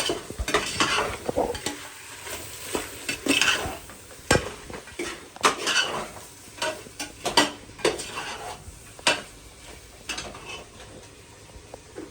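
Peanuts frying in a pan are stirred with a spoon, giving irregular sharp scrapes and clinks against the metal over a soft sizzle, close and alone.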